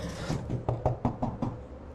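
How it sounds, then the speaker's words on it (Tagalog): A series of about six firm knocks on a door in the horror video game Curse Digicam, evenly spaced and fairly close, rapping out over a low ambient drone with no talk. "Saan yung kumakatok na yun?"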